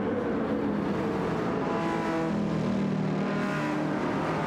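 Race cars, including a yellow and blue Porsche, lapping the Dragon Trail Gardens circuit in a racing video game: a steady, loud engine drone with several cars roaring and passing, no talk.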